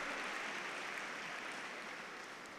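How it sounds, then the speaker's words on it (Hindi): Classroom applause for a student named Karan at Alok School in Rajsamand, a steady dense wash of clapping that continues evenly through the whole stretch, moderately loud and without speech. "थैंक यू, करण के लिए ताली बजाओ, बहुत हिम्मत की है"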